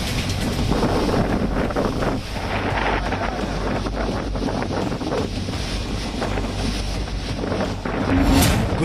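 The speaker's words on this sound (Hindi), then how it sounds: "राज्य के कई जगहों पर तेज हवाओं के साथ भारी बारिश हो रही है।" Strong winds of Cyclone Tauktae in Gujarat, with heavy rain, roar and buffet the microphone continuously, a heavy, gusty rumble with no voices.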